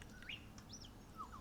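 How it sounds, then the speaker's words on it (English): A grey shrike-thrush calls at a window, sliding whistled notes that bend upward then fall, a few separate phrases spread over a second and a half against a soft, steady background hum. "Grey shrike thrush"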